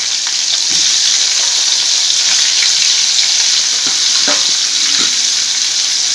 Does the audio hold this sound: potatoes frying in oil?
yes